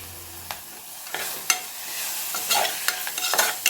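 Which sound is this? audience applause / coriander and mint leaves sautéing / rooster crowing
coriander and mint leaves sautéing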